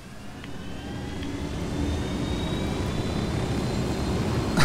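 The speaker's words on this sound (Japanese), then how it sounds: "じゃあヘリコプターに乗って場所移動しよう。" A helicopter lifts off in the video game Ghost Recon Wildlands, its engine and rotor drone building steadily louder and rising slightly in pitch, continuous and unbroken, with no voices over it.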